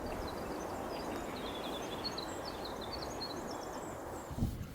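A winter wren's long, rapid trilling song rings out faintly over a steady background rush of running water or wind in wet woods.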